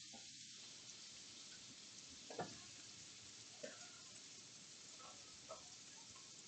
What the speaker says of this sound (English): I am going to put some butter on the griddle